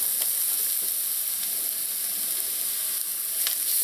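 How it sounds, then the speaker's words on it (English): Garlic and pepper sauté with browning onions in a hot pan, a loud, even, close sizzle with a few faint stirring taps and no speech. "we're gonna add in the garlic and the pepper"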